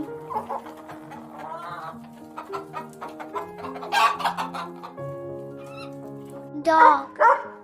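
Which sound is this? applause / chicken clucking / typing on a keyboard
chicken clucking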